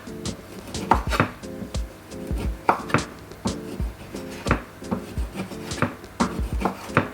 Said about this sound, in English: So I'm just removing the skin from it.